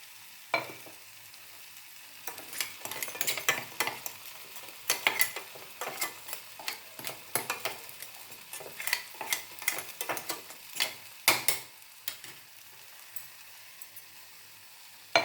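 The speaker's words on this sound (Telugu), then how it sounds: "వేసుకొని బాగా కలిపి తీస్తాం" Chili powder being stirred into karonda (vakkaya) pickle cooking in a pan, with a soft sizzle under irregular scraping and clinking of a spoon against the pot, close and continuous.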